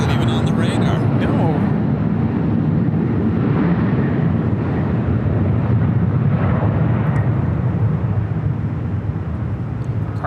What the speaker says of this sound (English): Cargo Lux taking off to Luxembourg.